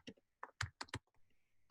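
Fingers tapping on a computer keyboard at a desk, a quick burst of distinct close keystrokes followed by a soft hum with no talk.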